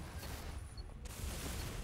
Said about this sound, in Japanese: こいつなんだあ、爆発か。